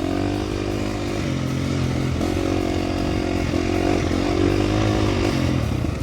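A 2025 KTM 350 XCF dirt bike rides off-road on dry, slick Texas trails, its engine a loud, continuous buzzing drone that rises and falls in pitch as the throttle shifts, with clatter mixed in.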